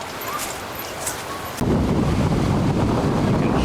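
Strong wind blasts across the microphone by open water on a disc golf course, giving a loud, roaring rumble that jumps sharply in strength partway through and then stays steady as waves wash in the background.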